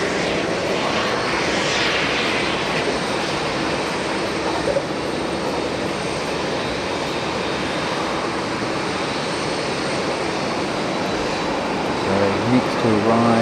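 An airliner arrives at Tokyo Haneda airport, its engines giving a loud, continuous roar that stays steady, with a voice talking over it.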